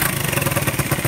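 Close, loud idle of a 2008 motorcycle with an abnormal rattling noise from its exhaust, a fast, uneven pulsing chug with metallic clatter running throughout.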